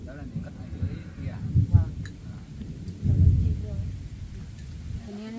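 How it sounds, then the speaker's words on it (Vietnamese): Rain and wind with rumbling thunder outdoors, two deep thunder swells over a steady hiss of rain, with a person talking over the storm. "Mưa gió như này á."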